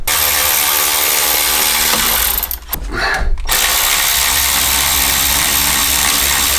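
A power tool, loud and close, runs continuously while removing a pulley bolt to take the supercharger off a BMW E36. It dips briefly in the middle, then carries on at full volume.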